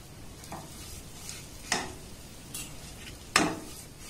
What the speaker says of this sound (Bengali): লো করে এটাকে খুব সুন্দর করে নাড়াচাড়া করে ভেজে নেব